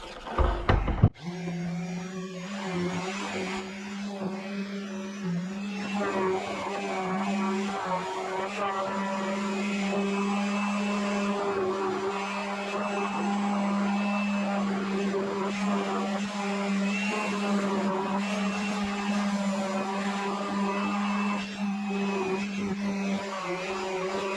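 Continuous power sanding of a wooden Adirondack chair part, a steady droning motor whine with a gritty abrasive rasp, loud and close throughout after a brief knock at the start.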